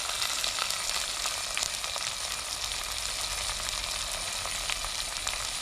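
Chopped onion frying in hot oil in a home kitchen for mixed vegetable palya, a steady close crackling sizzle with sharp pops spattering throughout and no voices.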